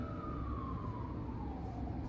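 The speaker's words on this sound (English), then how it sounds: "Another ambulance." An ambulance siren wails steadily as the vehicle passes, its pitch sliding gradually downward over dense street traffic rumble, fairly loud and continuous with no talking.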